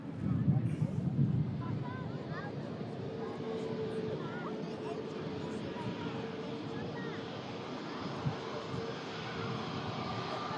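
An EgyptAir airliner taxis at an airport, its engines giving a steady distant roar mixed with wind noise, while people talk nearby.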